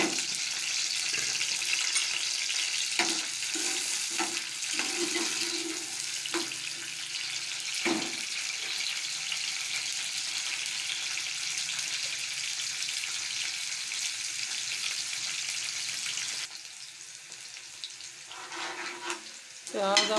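Onions fry in hot oil for a potato and egg curry, giving a constant moderate sizzle and crackle with occasional stirring clatter; the sizzle softens slightly toward the end.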